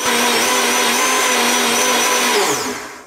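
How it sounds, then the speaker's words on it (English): A blender whizzes nuts into nut milk with a loud, continuous high-speed roar that holds steady and then winds down at the end. "Stick it in your blender."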